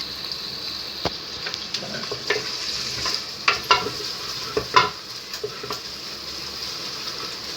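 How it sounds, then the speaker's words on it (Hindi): Onions sizzle in a hot pan while a utensil scrapes and stirs, with sharp clinks over the steady frying hiss. "अब हम इसमें प्याज डालेंगे और ब्राउन होने तक इसको भूनेंगे"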